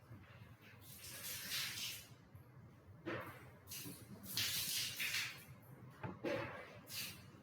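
Milk, half a litre, is stirred briskly in a pan to make a creamy white sauce, giving soft, repeated hissing and scraping swishes that come and go in uneven strokes, fairly quiet and close.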